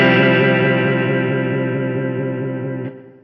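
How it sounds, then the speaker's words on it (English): A Keeley Verb O' Trem guitar pedal set to vibrato at high depth wobbles the pitch of a single sustained electric guitar chord in a steady regular pulse, loud and alone, fading slowly before cutting off. "Let me turn up the depths just so you can really hear it."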